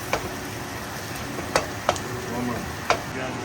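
Spoon scrapes and knocks in a frying pan as cooked onion and minced beef are stirred together over a soft sizzle, with several distinct sharp clicks and taps at irregular intervals.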